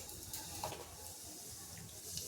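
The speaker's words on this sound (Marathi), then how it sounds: "कढईमध्ये मी तेल गरम करत ठेवलेलं आहे त्याच्यामध्ये जिरं टाकून घेते" Cumin seeds sizzle in hot oil in a kadhai, a steady, faint hiss of frying that runs through the whole stretch with no talk.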